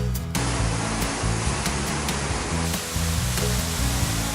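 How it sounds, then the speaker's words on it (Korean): Steady, roaring rush of Yongso Falls in Inje, Gangwon Province, fills the whole clip, loud and continuous with a dense hiss and low rumble, no voices. "폭포네 저게 저게 폭포네"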